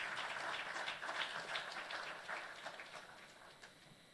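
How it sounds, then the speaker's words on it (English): An audience at a launch ceremony breaks into a sustained round of applause, a dense wash of clapping at moderate distance that slowly fades toward the end. "Round of applause, please."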